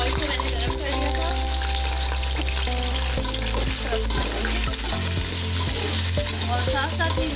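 Washed mutton fries in hot oil for dal gosht, a loud, dense, continuous sizzle with intermittent stirring and utensil clatter close by.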